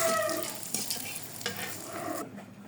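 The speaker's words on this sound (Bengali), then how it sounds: "কাঠবাদাম আর কাজু বাদামটা ভেজে নিব" Almonds and cashews frying in ghee, a close steady sizzle with stirring scrapes and light rattles that cut off abruptly near the end.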